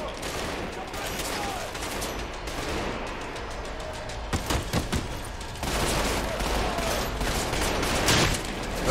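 A long-range shotgun and other weapons fire in the first-person shooter Trepang 2, loud rapid bursts of overlapping shots and crackling gunfire that continue for several seconds.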